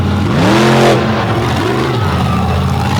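A racing truck with a big Jansen engine roars loudly at close range, revving up hard then dropping off before a second, shorter rise in pitch during a wheelie at a season-opening all-star race.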